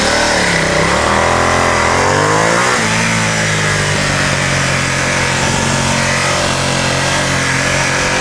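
A Ducati XDiavel S motorcycle engine revs and accelerates hard, a loud, close, continuous roar that climbs in pitch, drops back briefly and builds again, with no talk over it.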